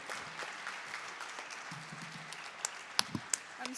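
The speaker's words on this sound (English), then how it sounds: "I'm sure that deserves a huge round of applause." Conference audience applauding after a research talk at an annual research conference, a broad, sustained patter of many hands clapping, with a few sharper, closer claps standing out near the end.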